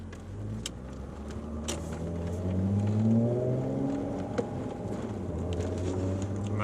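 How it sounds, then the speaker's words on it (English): A 2.9-litre VR6 Volkswagen Corrado on the road, its engine and exhaust droning steadily from inside the cabin, with the revs swelling and easing in the middle and a low rumble throughout. "I'm going to open that window slightly, just so you can hear the exhaust a bit better"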